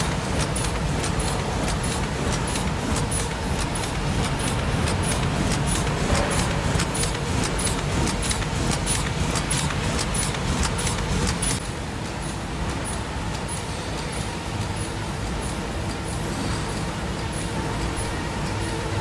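An NFM-E1080 automatic water-based glue lamination machine with dust remover runs with a loud, constant mechanical roar, overlaid for the first half by rapid regular ticking.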